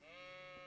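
A sheep in the medieval game Kingdom Come: Deliverance lets out one short, loud, wavering bleat, close and clear, with no voices over it.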